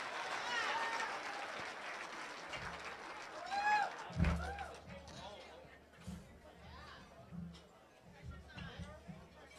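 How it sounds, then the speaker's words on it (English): Banquet audience at an Iron Dog racers' drawing and Hall of Fame event applauds team number 16, clapping thick at first then thinning, with chatter and a low hum running beneath as the room settles. "let's hear a round of applause for team number 16, Todd Minnick and Nick Olstad"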